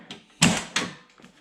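A Ford Foxbody car door with new black handles is slammed shut hard, a solid close-range thump followed by a second bang and a faint rattle, with no talking.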